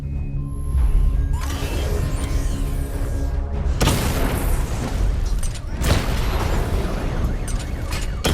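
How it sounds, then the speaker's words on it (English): Missile barrage explosions destroying targets in Batman: Arkham Knight, with a loud, sustained roar of blasts and rumbling debris and two sharp new bursts of explosions rising partway through and near the end. "Destroy targets to charge up weapon energy and activate missile barrage."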